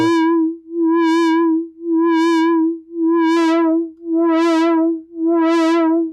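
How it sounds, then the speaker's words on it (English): A Reaktor synthesizer plays a filtered square-wave tone with low cutoff in six even repeated pulses, each swelling brighter and fading, loud and alone. "So that's just a filtered square wave at this point with the auto"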